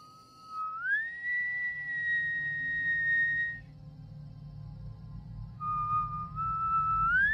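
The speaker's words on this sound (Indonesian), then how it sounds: "Kayak ada yang siul." A person whistles in long sustained tones that glide upward and hold, two separate phrases with a pause between, fairly clear over a low rumbling background.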